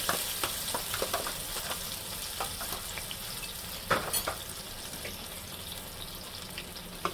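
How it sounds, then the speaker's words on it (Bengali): Onion, ginger and garlic paste frying in a pan with a soft, continuous sizzle, broken by scattered light spoon taps and one firmer knock midway, fairly quiet and close with no voices. "এখন পেঁয়াজ বাটা দিয়ে দিলাম। একটু আদা পেস্ট, রসুন পেস্ট দিলাম।"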